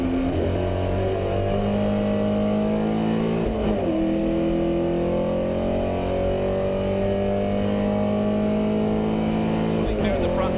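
1950s sports racing cars, including a Lotus Mark 6 and a small Porsche, roar past at Goodwood, their engines revving and shifting through gears and loud throughout, under steady race commentary.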